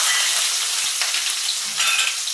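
Finely chopped onion hits hot oil already seasoned with mustard seeds, cumin, asafoetida and garam masala, giving a loud, continuous close-up sizzle with no one speaking.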